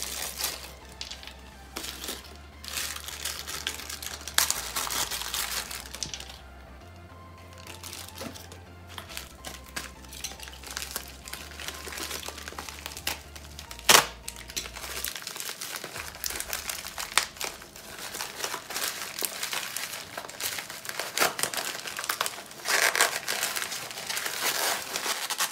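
Plastic packaging bags crinkling steadily as gel nail polishes are unwrapped, close, busy rustling with sharper snaps and a faint low hum beneath.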